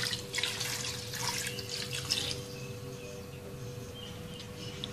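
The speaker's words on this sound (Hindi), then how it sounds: "3 से 4 कप पानी के शामिल कर देंगे।" Water pours steadily into a pot holding half a kilo of chicken bones over medium heat, a continuous splashing rush heard close up, louder at first and easing slightly toward the end.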